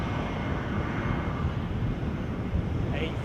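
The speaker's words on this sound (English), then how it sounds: "A321 from Frankfurt." Broad, steady roar of an Airbus A321 jet arriving from Frankfurt at Edinburgh airport, a continuous loud engine rumble with no breaks, while faint talk murmurs underneath.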